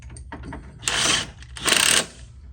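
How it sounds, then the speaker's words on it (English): Wrench tightening the front hub of an EZGO golf cart, producing two bursts of rapid ratcheting clicks, close and loud, with quieter mechanical handling sounds before them. "Give me a wrench, Jay. Right now, to tighten this up here."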